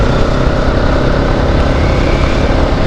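The engine of a Bajaj NS 200 motorcycle runs at about 4500 rpm, producing a loud, close, steady mechanical drone that stays even throughout.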